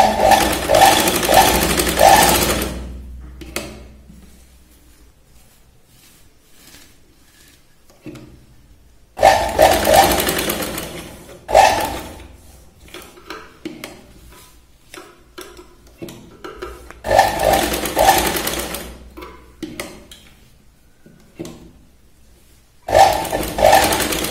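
A sewing machine stitching a princess cut blouse, loud close bursts of rapid mechanical whirring that start and stop in several runs, separated by quiet pauses with light handling noises.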